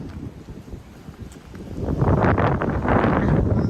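Strong wind blows in gusts, starting as a moderate rush and swelling louder after the midpoint into a sustained, buffeting roar against the microphone, with no talk.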